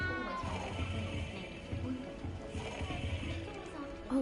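Cat meowing inside the castle in Hogwarts Legacy, a few short mews heard under game voices and a steady background score.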